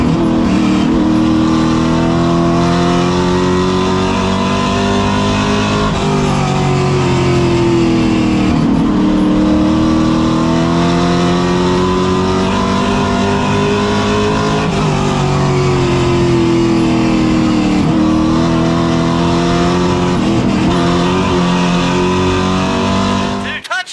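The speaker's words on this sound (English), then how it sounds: "They're going to drag race down the front straightaway." Race cars at Hickory Speedway roar continuously at full throttle down the front straightaway, their engine pitch rising and falling through shifts and laps, loud and close with commentary running over it.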